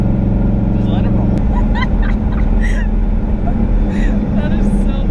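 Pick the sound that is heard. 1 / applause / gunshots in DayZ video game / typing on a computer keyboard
1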